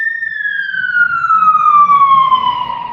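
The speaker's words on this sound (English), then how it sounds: "sounds like a police car, I think." A police car siren wails in one long, steadily falling tone, loud and clear from fairly close by, with a faint low rumble beneath it and no talk.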